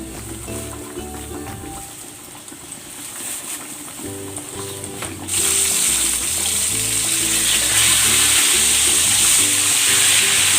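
Flour-dredged chicken frying in a pan, a steady sizzle that grows louder and brighter partway through, with clinks and low background noise beneath, no talking.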